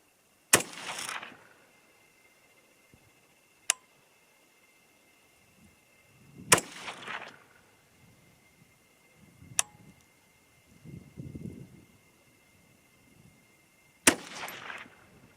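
A 6mm ARC rifle fired at a target outdoors, five sharp, loud cracks spaced several seconds apart, some followed by a brief ringing tail, with near-silence and faint low rumbles between shots.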